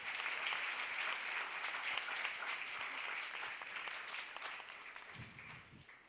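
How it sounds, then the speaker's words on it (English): Audience at the ENOUGH campaign launch bursts into loud, dense applause that holds steady for about six seconds, many hands clapping at once in a large crowd, tapering slightly near the end. "I honestly think we can clap harder than that"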